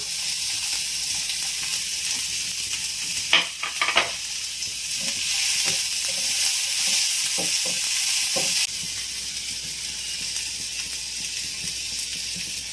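Chopped onions sizzle loudly in hot oil in a kadai, a continuous close hiss and crackle broken by a few stirring scrapes, with the frying dropping slightly in level near the end.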